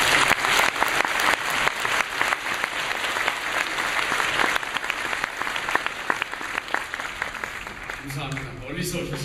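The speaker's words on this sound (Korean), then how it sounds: "뜨거운 환영의 박수를 드리겠습니다." A church congregation applauds warmly in welcome of visiting guests, a dense sustained wave of clapping filling the room before tapering off as a voice resumes speaking.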